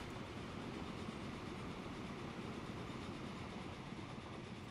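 Train rolling along the tracks in the railway simulation game Transport Fever, a faint, steady rumble of wheels and rail carriages running continuously without pause, with no voices over it.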